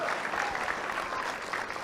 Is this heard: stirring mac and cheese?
no